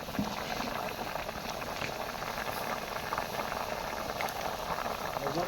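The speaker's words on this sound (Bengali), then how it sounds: "এই যে তেলানি দেওয়ার পর বলক উঠে গেছে" A pot of curry broth for a potato and mirka fish dish boils hard at a rolling bubble. The steady, dense bubbling and hiss stays close and constant throughout, with no clear talk over it.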